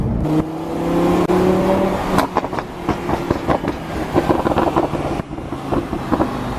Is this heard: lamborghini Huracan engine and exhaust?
yes